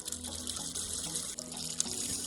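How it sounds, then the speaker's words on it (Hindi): Water pours from a pipe fed by a natural village supply and fills a container, a steady splashing, gurgling run close by with no talking over it. "तो यहाँ से थोड़ा पानी भर लेते हैं इसमें से"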